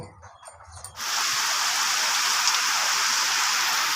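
Heavy rain pours down steadily, a dense continuous hiss that starts abruptly after a quiet second and stays loud throughout.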